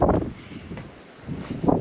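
Wind buffets a microphone on an exposed hiking trail along the Lycian Way, a loud, rough rumble that eases off briefly and then surges back, with no voices.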